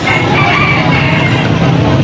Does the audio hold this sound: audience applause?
no